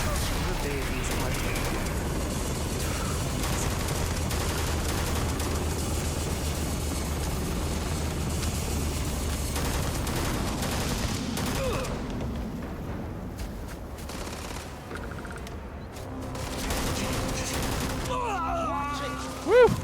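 Gunfire in the sci-fi video game Starfield, with loud sustained bursts and shots over busy game sound and talk, tapering toward a quieter stretch near the end.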